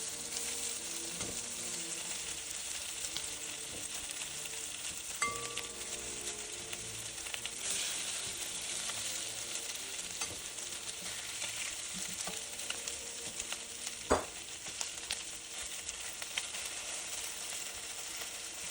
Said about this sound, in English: pan fry the chicken wings on both sides until they're beautifully browned